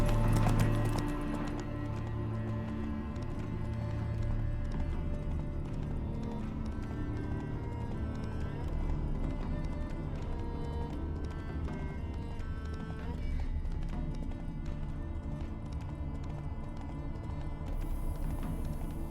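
Hooves of Roach, the horse in The Witcher 3, clop steadily at a moderate pace, with a possible neigh, over sustained game music and layered ambient sound.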